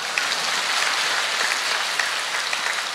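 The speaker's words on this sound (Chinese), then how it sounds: "鼓掌" Sustained applause from a seated audience at a Buddhist gathering in Melbourne, Australia, a dense steady patter of many hands filling the whole stretch at even loudness with no talk over it.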